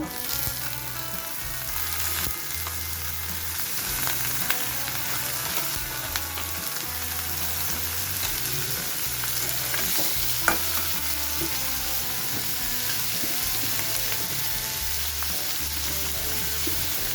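Bitter gourd and chopped potato fry in a pan with a steady, close sizzle. A utensil stirs them in repeated scraping strokes, and there is no talk throughout.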